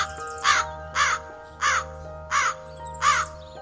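A crow in a jungle caws five times at a steady rhythm, each harsh call loud and near, over a soft continuous background tone.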